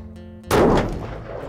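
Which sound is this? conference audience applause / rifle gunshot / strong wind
rifle gunshot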